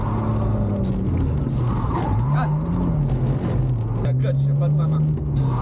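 Car drifting using the handbrake, engine revving hard with rising and falling pitch, loud and continuous, with a person talking over it.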